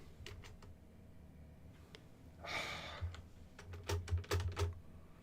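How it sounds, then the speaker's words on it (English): Someone tests a dead space bar with scattered keystrokes on a computer keyboard, with a few isolated clicks and then a quick flurry of taps near the end. A soft breath or sigh sounds between them, and the room is otherwise quiet. "Why is the space bar turned off? Is my space bar dead? Did it finally die on me?"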